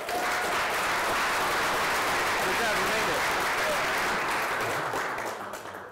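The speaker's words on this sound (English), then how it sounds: "give them a round of applause for me" An audience applauds speakers at a talk: dense, sustained clapping fills the whole stretch and tapers slightly at the end, with voices speaking over it.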